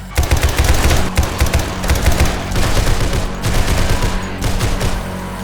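Rapid automatic gunfire from a weapon in the survival game 7 Days to Die, a loud, dense stream of shots running nearly the whole time with brief gaps, close and alone without talk.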